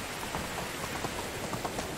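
Steady rainfall in the medieval survival game Medieval Dynasty, a soft continuous patter of drops on the ground with no voices over it.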